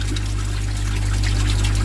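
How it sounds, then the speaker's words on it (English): Pond water rushing steadily through a small gap in a garden pond, a continuous close-up flow with a low pump-like hum underneath and no talking. "That's only a small gap there where the water blows through, look."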